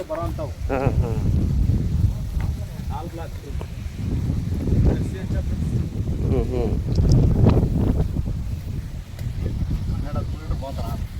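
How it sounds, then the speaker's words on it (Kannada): Strong gusty wind buffets the microphone with a low rumble throughout, while several people talk over it at a cattle sale. "ಗಾಳಿ ತುಂಬಾನೇ ಬೀಸ್ತಾ ಇದೆ"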